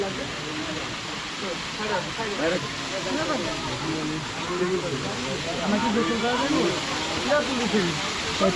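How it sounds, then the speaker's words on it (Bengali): Continuous rushing and splashing of falling water from an artificial waterfall near Cox's Bazar, Bangladesh, steady and moderately loud, with people talking over it throughout. "জাস্ট কৃত্রিম একটা ঝর্ণা"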